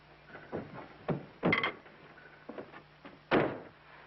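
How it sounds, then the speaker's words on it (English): A door being shut in an old 1930s film scene, heard as several soft knocks and handling thumps, ending in one louder closing bump, moderately near with room hum underneath and no talk. "Will you close this door, please?"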